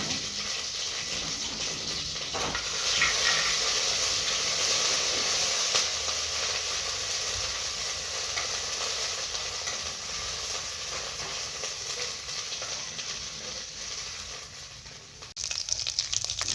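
Ground masala paste hits hot tempering oil for a pigeon pea pod amti, producing a continuous, fairly loud sizzle and hiss that holds steady close by with only a brief shift near the end, no voices.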